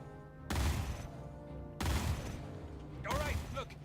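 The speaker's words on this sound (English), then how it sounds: "I am not being impressed by these guns" Ship-mounted guns firing in the Star Citizen space game aboard a MISC Freelancer, two heavy bursts followed by a third with a voice speaking over it; loud, booming and rumbling.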